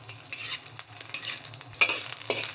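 Scallion whites, ginger slices and shallots stir-frying in hot oil in a wok, with a steady soft sizzle and repeated spatula scrapes and stirring clatter, close and moderately loud.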